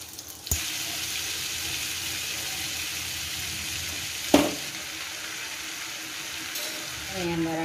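Butter hitting a hot kadai with oil, a steady close hiss of frying with a sharp clatter at the start and another mid-way, a voice speaking briefly near the end.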